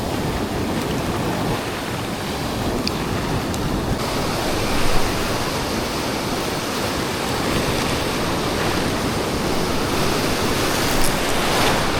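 Steady broadband wash of surf, a continuous roar of waves without distinct breaks, fairly loud and close, with no voices.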